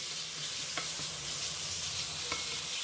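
Pork stir-frying in a pan gives a steady, close hiss of sizzling oil, broken by a couple of brief spatula scrapes, with no talking.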